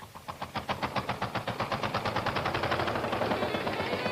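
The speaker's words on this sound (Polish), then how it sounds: "traktory, które systematycznie i z wielkim hukiem wstrząsają nad wątlonymi murami starych kamieniczek" Tractors rumbling past old stone tenement houses, a rapid, regular chugging engine beat that starts moderate and grows into a steady, loud, close pulsing drone.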